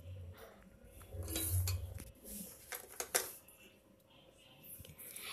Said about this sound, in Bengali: এরপরে ভালো করে নাড়াচাড়া করে নিচ্ছি, আর কাজুটাও এর মধ্যেই আছে।